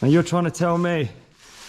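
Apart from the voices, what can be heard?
No everyday noise stands out behind the speech.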